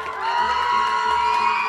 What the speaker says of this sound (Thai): เสียงกรี๊ดสิคะ